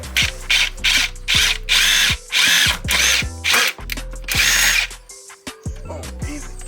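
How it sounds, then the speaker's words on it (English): A cordless drill with a titanium bit bores through the metal door panel of a 2013 Ford Fusion, whining in several short bursts of a second or less with the motor revving up and down between them, close and loud, followed by softer handling clicks. "We're gonna drill straight through here"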